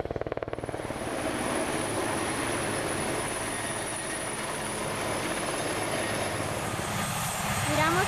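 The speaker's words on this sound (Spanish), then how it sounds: "Ahí como miramos el helicóptero en el que viene la Cruz Internacional" A Red Cross helicopter at a rural landing site runs continuously with a steady rotor and engine drone, moderately loud and close, with a faint high whine over it.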